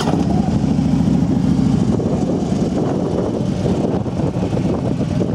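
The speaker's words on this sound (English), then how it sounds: "See what that Pro Pipe sounds like." Harley-Davidson Road King FLHR motorcycle with a Pro Pipe exhaust, a loud, deep, continuous engine rumble held close, throbbing steadily throughout without talk.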